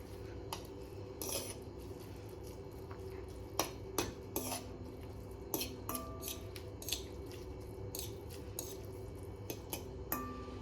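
Metal utensils clank and scrape in a kadhai while Maggi noodles cook, with repeated sharp clinks and taps over a steady low kitchen hum, close and fairly quiet.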